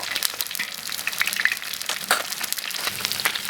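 Delicate wild-caught fish fries in hot oil in a wok, a close, continuous crackling sizzle with scattered sharp pops and occasional nudges of the pan, no voices over it.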